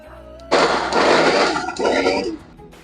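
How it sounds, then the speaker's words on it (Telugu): A kitchen mixer grinder blends tomatoes into a smooth paste. It whirs loudly for about two seconds, with a brief dip midway, then stops. "ఇప్పుడు దీన్ని మెత్తగా మిక్సీ పట్టుకుందాం"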